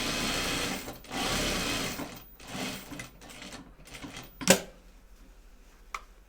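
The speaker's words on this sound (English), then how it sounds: "Now then we would do our box stitch." A sewing machine stitches a box stitch on a bag, running in steady whirring bursts with brief pauses, then a sharp clack and a short final burst.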